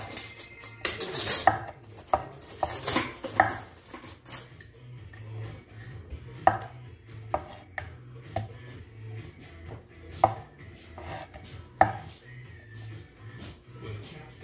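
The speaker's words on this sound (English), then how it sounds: "Because scallop also big, so I cut small like this." Scallops being cut into small pieces with a knife on a board for a seafood soup, giving irregular knocking chops and light clatters close by, with quiet rustling between strikes and no talking.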